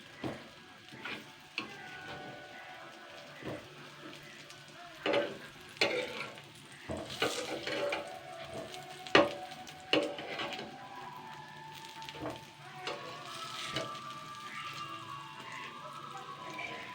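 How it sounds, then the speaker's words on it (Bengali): Eggplant slices frying on a tawa over medium heat: a low continuous sizzle broken by sharp spatula taps and scrapes as pieces are turned, close and fairly quiet. "এবারে 2 মিনিট করে করে আমি ভেজে নিচ্ছি"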